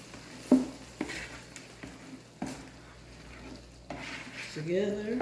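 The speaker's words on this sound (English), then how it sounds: "so now I'm just stirring this" Store-brand Asian Kitchen food with two sauce packets is stirred in a pan: a soft sizzle runs underneath while a utensil gives several sharp scrapes and knocks against the pan, followed by a brief faint voice.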